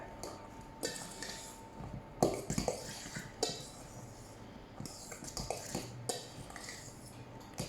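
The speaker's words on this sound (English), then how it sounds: "Give them a nice stir." Borlotti beans and chopped vegetables are stirred in a bowl, giving soft scrapes and light clinks of a utensil against the dish, intermittent and fairly quiet.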